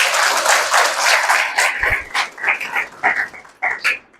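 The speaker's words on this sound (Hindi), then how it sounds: "तो पांडवों के लिए भी ताली बजाओ भाई।" An audience applauds at a spiritual discourse: a loud, dense burst of clapping that thins into scattered, uneven claps before fading out.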